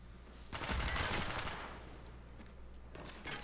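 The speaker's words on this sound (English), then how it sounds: "That was horrible shooting." Gunfire crackles in a free-for-all match of an online shooter video game, a burst of rapid shots lasting about a second, followed by quieter scattered fire and another short burst at the end, faint overall.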